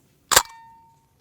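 A single sharp shotgun blast firing a Winchester turkey load at a target, a loud crack with a short decaying tail into quiet.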